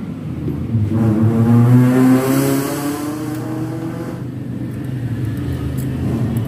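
A motorbike engine is started to test a newly fitted battery, giving a low rumbling, droning run that swells early and then holds steady and fairly loud, with no talk.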